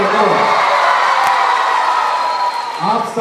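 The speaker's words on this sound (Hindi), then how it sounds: "A huge round of applause for all of you. एक बार जोरदार तालियां." Crowd cheering, whooping and applause from an audience at a kids' dance competition for underprivileged children, a loud, sustained wash of noise from start to finish.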